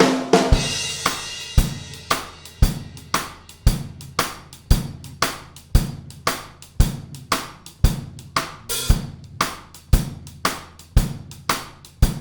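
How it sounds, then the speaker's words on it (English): A drum shuffle played with a side stick: a steady train of sharp, woody clicks in a swung rhythm, each rim knock ringing briefly, repeating evenly and up close with no talking. "So let me use a side stick on the shuffle."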